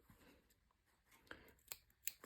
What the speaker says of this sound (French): Mes ciseaux sont clairement fatigués.